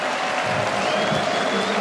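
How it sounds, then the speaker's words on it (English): Cricket spectators at Headingley during an Ashes Test cheer and clap, with sustained applause from a large crowd filling the stadium. "He waves to them, they cheer back."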